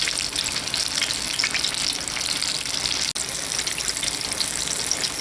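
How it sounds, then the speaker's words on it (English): Apple fritters fry in hot oil with a steady, dense sizzle and crackle, close and continuous, with one brief dropout partway through and no talking. "I'm going to fry these until they get a nice golden brown on both sides"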